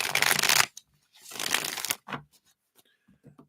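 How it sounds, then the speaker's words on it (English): A deck of reading cards is shuffled in two loud riffling bursts with a few softer card taps and slides between them, close up with no talk. "Let me just give these a shuffle"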